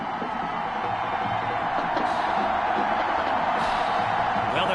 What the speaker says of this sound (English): the crowd is loud and on its feet